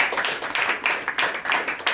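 Congregation clapping hands in praise during a Tamil Christian service, a steady rhythmic beat of many hands, close and loud.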